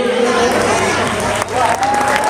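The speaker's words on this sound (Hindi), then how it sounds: "जोरदार तालियों से स्वागत" A seated audience at a Ramlila performance of the Bali Vadh episode in Aminagar Sarai breaks into loud, sustained clapping that fills the space, with raised voices cutting through.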